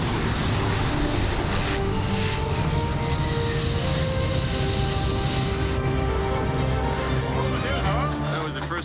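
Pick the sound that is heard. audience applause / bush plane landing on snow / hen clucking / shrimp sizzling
bush plane landing on snow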